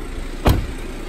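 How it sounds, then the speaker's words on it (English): A 2017 BMW 530i's power window closes as a single brief motor whir with a soft thump near the middle, close by over a quiet background. "Go ahead and close the window for this vehicle as well"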